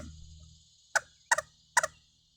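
A squirrel call shaker, lightly shaken, gives three quick raspy bursts after a faint low rumble, each a short chattering rattle like a small animal call, close and fairly quiet.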